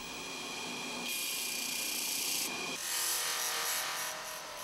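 Steel tweezer tips being hand-finished in a workshop, continuous close rasping and rubbing strokes from filing and smoothing the metal, steady with slight changes in pitch and intensity.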